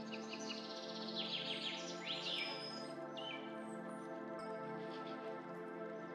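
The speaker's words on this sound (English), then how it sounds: "or the birds singing." Birds chirp and sing in short bright phrases over a steady ambient bed, set in a calm nature soundscape with waves and rustling leaves, with no talking.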